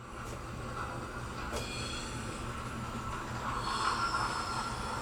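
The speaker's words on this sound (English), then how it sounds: "let's head over past the dispatcher's office to watch the train come out of a tunnel" A model train rolls out of a tunnel beside a miniature Mount Rainier, wheels rumbling and faintly squealing on the track, a steady close mechanical clatter with no talk.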